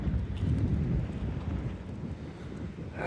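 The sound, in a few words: wind blowing on a beach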